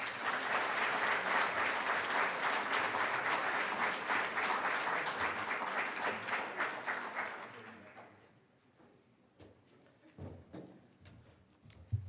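Applause from the crowd at the Mulerider Athletics Hall of Fame 2024 induction at Southern Arkansas University: loud, sustained clapping that fills most of the clip, then fades to a quiet room.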